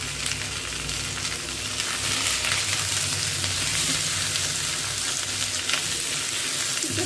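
Potatoes, pointed gourd and pumpkin fry in a pan, giving a steady, close sizzle with crackling oil and an occasional scrape of stirring throughout.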